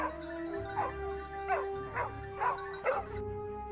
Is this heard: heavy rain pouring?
no